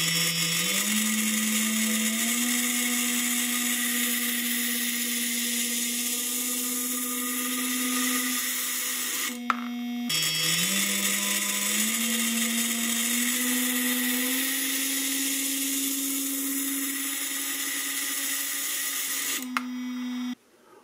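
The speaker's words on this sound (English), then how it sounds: "So at a certain RPM of the motor, we're going to get a certain vibration, and when it resonates," An offset-weight motor vibrates steadily to shake a nut loose, producing a loud, continuous buzzing whine whose pitch steps slightly upward as it speeds, interrupted twice by brief drops.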